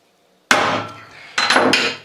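A hammer strikes a transfer punch two or three times in quick succession, sharp metallic blows, close and loud, with brief ringing after each hit.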